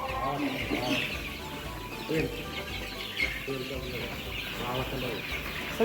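Kaveri chickens on a poultry farm cluck and chatter in a busy, continuous flock murmur, with someone speaking over the birds.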